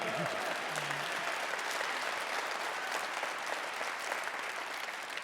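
Sustained audience applause at a live Lombardi Honors awards event, a steady, even wash of many hands clapping at moderate distance for several seconds, with a brief murmur of voice early on.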